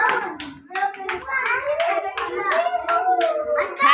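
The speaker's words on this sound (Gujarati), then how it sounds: "તાળી પાડો" Young children at a primary school clapping their hands together in a steady rhythm of sharp claps, mixed with children's voices calling out.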